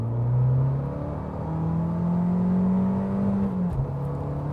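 A 2018 Fiat Abarth 595 pulls away on the road, its engine note climbing steadily and droning loud and close for several seconds before briefly dipping near the end, as at a gear change.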